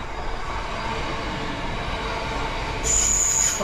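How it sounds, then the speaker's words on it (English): A train rolls past close by, a steady broadband rumble of railcars with a sharp, high wheel squeal rising near the end, no talking over it. "We've got a train."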